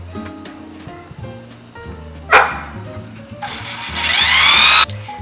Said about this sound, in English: This is a Phillips head tip since the screws I'm using are Phillips head screws. And I'm just going to screw these right into the holes that I started.